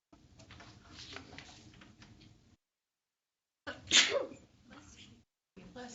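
A single sharp sneeze bursts out in a lecture room during a class on Moundville archaeology, loud and close, with faint murmuring before it and brief quiet around it.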